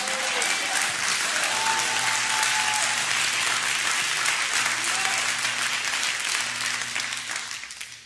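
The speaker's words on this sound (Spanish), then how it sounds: "Si Dios ha sido bueno contigo, Dios se merece el mejor aplauso" A church congregation applauds continuously for several seconds, a dense, close wash of clapping that thins out at the end, with faint musical tones beneath.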